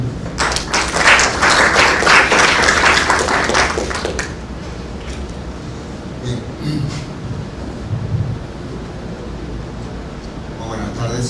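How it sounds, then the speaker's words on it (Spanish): Applause from a conference audience at the University of Lima rises loud and dense for about four seconds, then trails off into scattered claps and room noise. "Un aplauso para los señores."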